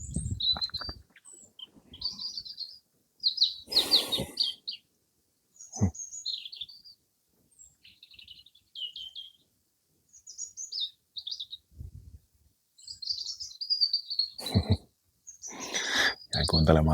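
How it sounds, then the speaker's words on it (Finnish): Several birds sing and chirp in short bursts in an open setting in Portugal, bright and fairly close, with pauses between phrases and occasional low thumps and rustles. "Jäin kuuntelemaan näitä lintuja vielä."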